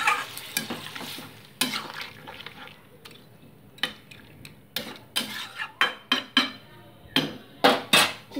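Vegetables are stirred into a simmering fish curry broth with a spoon, a steady run of scraping and clacking strokes against the pot that grows quicker and more rhythmic toward the end, over a soft background sizzle.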